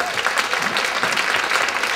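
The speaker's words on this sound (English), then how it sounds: "a big round of applause to John Jang for an incredible set tonight" A crowd claps for a performer after a live set at an arts event, dense and even applause that holds at a steady level throughout, close and without any voices on top.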